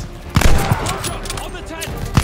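Gunfire in the video game Call of Duty: Vanguard: sharp shots and bursts of automatic fire over a busy battlefield ambience, with shouted voices mixed in under the shooting.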